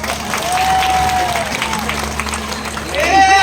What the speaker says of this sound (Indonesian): Mari kita tampilkan artis Bali dari Desa Adat Tengkulung. Tepuk tangan